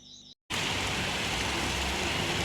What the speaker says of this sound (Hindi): लगातार बारिश हो रही है बहुत ही तेज़